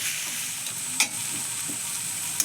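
Potatoes stirred and fried in a pan, a steady close sizzle with a sharp spatula knock near the middle and another at the end.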